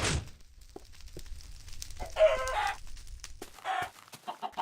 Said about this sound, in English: I heard something clucking.